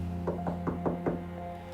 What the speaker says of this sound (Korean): 계속해서 멈추지 않는 노크 소리.